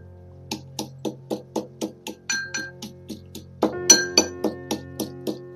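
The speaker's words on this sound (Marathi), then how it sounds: "आता याच्यामध्येच आता आपण बदाम कुटून घेऊया" Almonds being pounded for coconut ladoo, in a steady series of sharp metallic clinks about twice a second, with a couple of louder strikes and a faint background hum.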